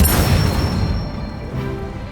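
An Incendio fire spell cast in Hogwarts Legacy, a loud, close whooshing burst with a deep booming roar that decays over about two seconds.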